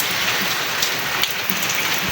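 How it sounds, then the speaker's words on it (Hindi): Heavy rain falling steadily, a dense, loud hiss of drops pouring onto surfaces without pause and without any voices. "देखिए ना बादल बारिश कैसे तेज़ हो रही है।"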